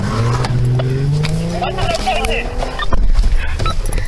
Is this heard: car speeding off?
yes